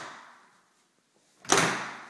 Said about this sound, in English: And I'll open the doors here to the closet.